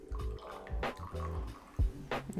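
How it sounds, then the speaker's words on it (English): Filter coffee poured into the bottom of a cup while preparing a latte without electric appliances, heard as a few short, close liquid splashes and trickles separated by brief pauses. "We're just going to pour a little bit into our cup, into the bottom."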